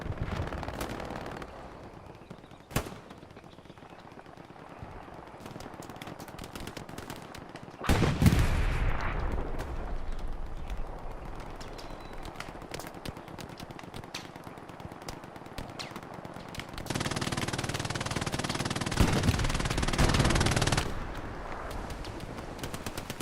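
MG42 machine gun firing in a video game, with sharp shots and sustained bursts of rapid automatic fire, including a loud stretch midway and another long dense burst near the end, heard against a rumbling battlefield background.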